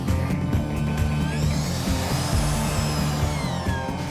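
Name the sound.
drill tapping a hole in metal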